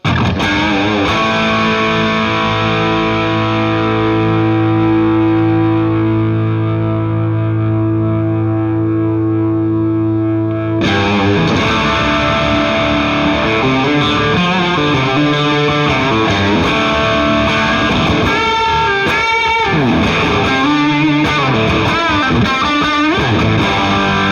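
Heavily distorted electric guitar through a Bad Cat Hot Cat 15R 15-watt amp on the bridge pickup, first a sustained droning chord, then a loud crunchy riff with bends and fast picked notes.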